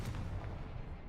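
Confringo fire spell going off in the video game Hogwarts Legacy: a single loud, booming blast with a dense low rumble that fills the whole brief moment.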